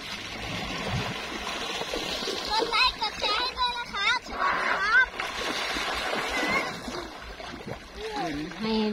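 Splashing water as small children bathe and play on a hot day, steady broadband splashes and trickles throughout with a voice talking over them and brief child-like calls.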